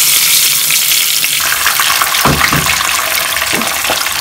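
Whole hot chilies and tomato paste fry in hot oil with cumin for Kashmiri keema karahi, a loud, close, continuous sizzle that flares into a burst of spluttering as the paste hits the oil, with no talking.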